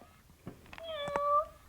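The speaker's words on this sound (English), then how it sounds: "He will meow and he'll purr." A battery-powered interactive toy cat gives one short electronic meow, close and fairly clear, rising and then sliding down, over faint background noise.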